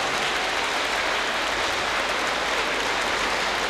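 Steady, dense applause from a church congregation at an Easter Mass in Haiphong cathedral, Vietnam, loud and continuous throughout with no pauses.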